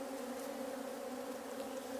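Honey bees buzz steadily in an open hive during an inspection of a defensive colony, a continuous close drone with no voices.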